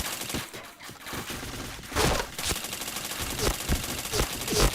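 Rapid bursts of automatic gunfire from a shooting video game crackle in quick succession, with sharp individual shots standing out over a busy mix of game effects.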